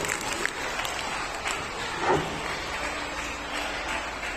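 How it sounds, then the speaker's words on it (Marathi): A school audience claps to welcome a teacher about to sing, a steady patter of many hands across the whole stretch, moderately loud with faint crowd murmur beneath. "आपण सर्वांनी टाळ्या वाजवून त्यांना या ठिकाणी त्यांचं स्वागत करायचं आहे"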